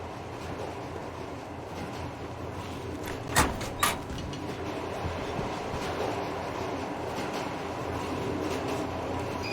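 A train car rumbles steadily in the video game Metro Exodus, with two sharp metallic knocks close together partway through over the constant rolling drone.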